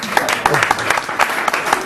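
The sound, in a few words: audience round of applause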